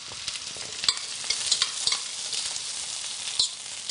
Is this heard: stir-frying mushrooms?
yes